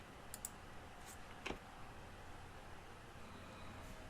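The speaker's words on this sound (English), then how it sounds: "I'll hit enter to send that." A single Enter key press on a computer keyboard makes one faint, distinct click near the middle, surrounded by quiet room hiss.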